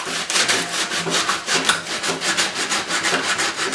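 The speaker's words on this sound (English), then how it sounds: "I like to start with a larger grit sandpaper" Coarse, large-grit sandpaper rubs back and forth over wood in a steady rhythm of raspy strokes, close and fairly loud, trimming a piece to size on a junk ukulele being made into a lamp.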